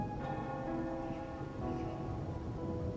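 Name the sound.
rain falling in a video game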